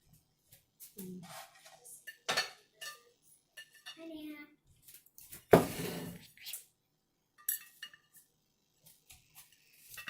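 A Pampered Chef scoop loop knocks and clinks against a bowl of brown sugar in a home kitchen, scattered light taps and one sharper clatter between bits of nearby talk, including a voice.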